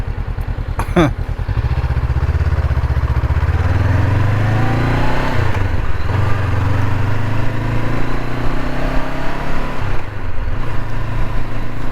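A motorcycle rides through traffic toward the lake, its engine droning loud and close with rising and falling revs and wind rush.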